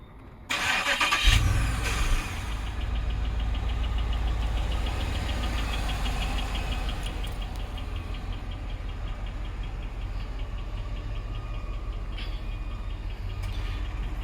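A 2008 Buick Lacrosse Super engine with a fault runs steadily, a low mechanical rumble with a faint high whine carrying on throughout after a brief startup surge, no voices over it.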